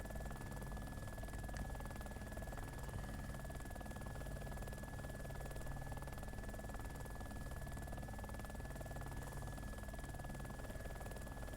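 A steady helicopter engine and rotor drone from a video game, with a constant whine over a low rumble, unbroken and fairly quiet throughout.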